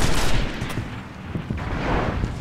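Dense, loud gunfire in the shooter game Destiny, with overlapping automatic bursts and heavy blasts in a continuous barrage during a zone-capture match, and no voices.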